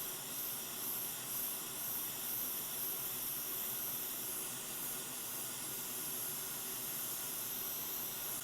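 A hot air rework station blows a steady, unbroken hiss across a Sapphire Nitro+ 6950 graphics card board while preheating it, close and even with no talk.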